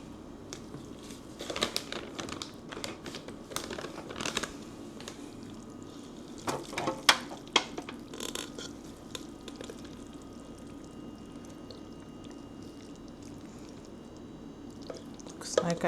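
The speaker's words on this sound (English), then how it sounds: "Now I'm going to transfer the macaroni and cheese mixture into the pan" Thick, creamy macaroni and cheese mixture gets scooped and spread into a baking pan, giving soft wet squishes and scraping clicks scattered through the clip, with quiet background between them.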